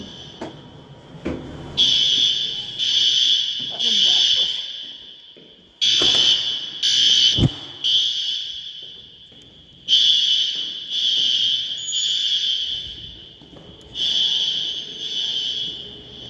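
A piercing fire alarm rings in repeated bursts with short gaps, loud and close, with brief knocks and faint background noise.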